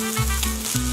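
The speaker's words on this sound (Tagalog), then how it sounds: "igigisa ko na muna. Yung mushrooms, ating corn, ating green peas." Mushrooms, corn and green peas sauté in a pan with a brief, close, steady sizzle and a faint underlying hum.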